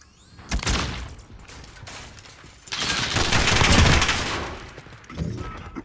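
Video game gunfire: a sharp burst of shots early on, then a long, loud rattling fusillade in the middle and another short burst at the end.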